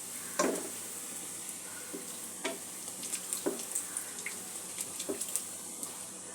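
Chana dal kachori frying in hot oil over a medium flame: a steady soft sizzle with scattered small pops and crackles, a few sharper clinks of a utensil, fairly quiet and close, no talking.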